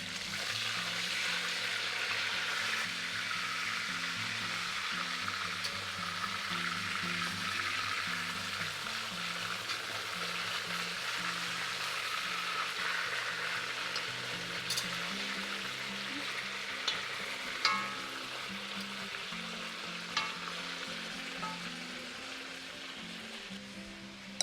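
Chicken Maryland pieces for an Indian curry fry in a pan with a steady, vigorous sizzle and crackle, a few sharper pops and faint clinks near the end, and no talking.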